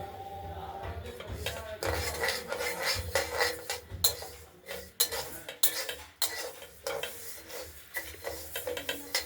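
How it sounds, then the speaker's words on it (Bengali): Sona moong dal being dry-roasted and stirred in a kadai: a spoon scrapes and clatters against the metal pan in busy, irregular strokes, close and fairly loud, with no talking. "এই ডালটা আমরা কড়াইতে নেড়ে নিচ্ছি"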